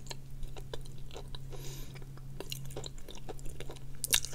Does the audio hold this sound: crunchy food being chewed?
yes